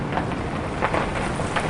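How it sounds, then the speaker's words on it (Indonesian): Steady rain falls in a dense, even hiss with faint rumbling underneath, continuous and fairly loud throughout. "Aduh, gawat. Akan turun hujan."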